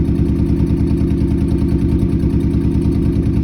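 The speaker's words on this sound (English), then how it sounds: "Good motor. People want that motor. Acura GS." An Acura GS with a B18C engine and five-speed manual runs at a steady idle, a loud, close, continuous low rumble with an even pulsing throb and no talking.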